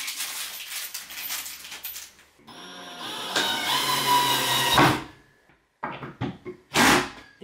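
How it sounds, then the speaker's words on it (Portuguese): An electric drill-driver's clutch ratchets in a rapid clicking burst when it reaches its set torque, with brief whirring runs of the motor and short stops, heard close up in a quiet room. "Esse barulho que a furadeira faz é que você escolhe o torque que você quer aqui"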